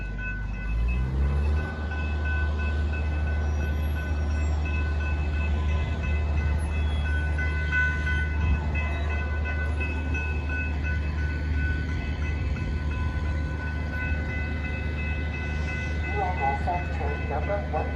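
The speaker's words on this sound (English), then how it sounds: "Train approaching." Train pulling into a commuter rail station in Downers Grove, a steady low rumble of wheels and engine building and holding throughout, with a faint horn tone and brief voice-like sounds near the end.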